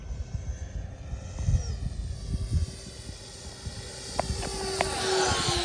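An Eachine F18 RC jet with a 50mm electric ducted fan flies overhead outdoors, its high-pitched whine rising and falling as it passes and swells louder toward the end.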